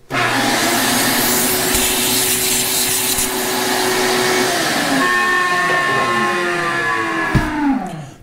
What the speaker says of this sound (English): Don't mind the vacuum, it's fine,